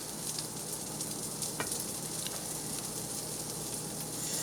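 Onions sizzle steadily in a hot pan for spinach pie, a dense continuous crackle with occasional louder pops and stirring, up close and without talk.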